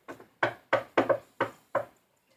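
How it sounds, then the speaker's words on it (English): Seven sharp knocks on a wooden door, loud and close, grouped in an uneven rhythm of quick raps followed by a brief pause. "the wolf followed them to the third little pig's house and knocked on the door"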